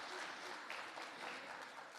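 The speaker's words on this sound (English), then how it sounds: "Ladies and gentlemen, I think Dr. Flora and the rest of the team deserve another round of applause for the work done." Audience applause at the close of a conference, a steady dense wash of clapping hands that holds fairly loud and even for the whole stretch.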